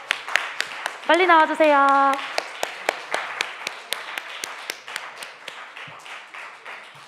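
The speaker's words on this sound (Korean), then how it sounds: "43기 박수로 맞아주세요." A young adults' church group claps in welcome at a Sunday worship service, a steady beat of separate claps running throughout, with a person speaking briefly early on.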